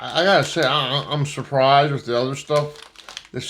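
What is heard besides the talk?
No everyday noises stand out.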